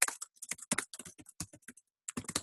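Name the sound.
typing on a computer keyboard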